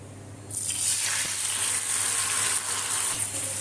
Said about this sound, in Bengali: এবার আমরা যে পেস্টটি তৈরি করে রেখেছিলাম সেটা কড়াইয়ে দিয়ে দিব।